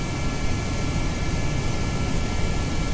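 A plane engine in the video game Kerbal Space Program runs as a steady, loud broadband roar with a faint high whine, constant throughout with no variation.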